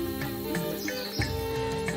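Jungle birds that live alongside water buffalo give repeated short chirps and tweets over a dense background of insect or cricket drone, with the calls spaced out and moderately close.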